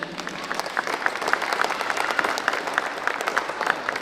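A crowd claps for a faculty member at an inauguration of a technological institute in Tlahuitoltepec, Mexico, with dense, steady applause filling the room and distinct sharp claps standing out in a fairly even rhythm.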